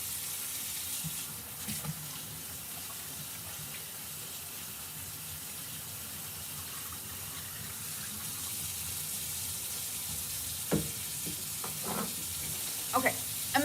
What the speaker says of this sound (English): I'm sure you can hear the running water in the background